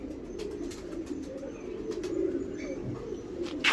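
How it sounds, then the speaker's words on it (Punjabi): A loft pigeon, one of a breeding pair set out in the sun, coos softly in low, close murmurs against a faint background with small rustles. "ਇਹ ਕਬੂਤਰ ਆ ਜੀ"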